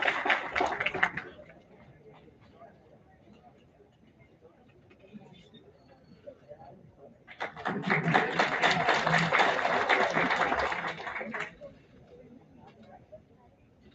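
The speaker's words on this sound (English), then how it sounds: "Let's have a huge round of applause for Mr. Vipul" Audience applause at an international academic conference as a certificate is presented, a short burst of clapping at the start and a louder sustained round in the middle, with quieter murmuring and speech between.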